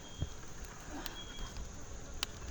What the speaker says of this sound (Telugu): ఫ్రాన్స్ చుట్టూ ఈగలు తిరుగుతున్నాయి మా మధ్యన